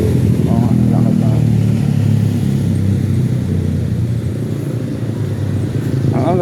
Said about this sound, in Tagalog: Ang aga ng motor na yan.